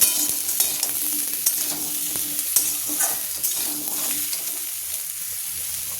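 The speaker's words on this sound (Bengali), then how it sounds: "সবজিগুলো যখন একটু লাল লাল হয়ে আসবে তখন সজনে ডাঁটা দিয়ে নাড়াচাড়া করে নেব" Mixed vegetables and drumsticks fry in oil in a pan while being stirred, with steady close sizzling and repeated scraping and clinking strokes throughout.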